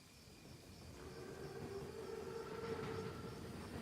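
A huge German armored train, the Panzerzug, approaching in a World War II video game cutscene: a low rumbling rush swelling steadily louder, with a sustained tonal wheel or brake whine over the rolling clatter, no talking.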